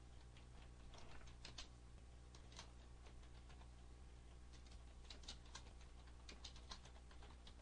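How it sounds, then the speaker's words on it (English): Keystrokes on a computer keyboard entering a county name into a search field, quiet irregular clicks in short bursts over a steady low hum, no talking. "there's a search field where you can type in the name of the county"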